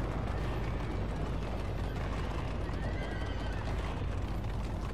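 A centaur neighs in the God of War video game, a horse-like whinny buried in a loud, dense wash of rumbling battle noise.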